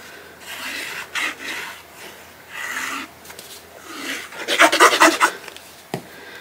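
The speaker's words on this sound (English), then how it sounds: "So I'm just gonna use my We Are Memory Keepers book cover tool" A We Are Memory Keepers book cover tool scores and rubs along a mini album cover in a series of short rasping strokes, growing louder and denser toward the end, with no talking.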